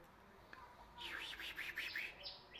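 A common tailorbird trapped inside a house gives a quick series of high, thin chirps, faint and slightly distant against a quiet room.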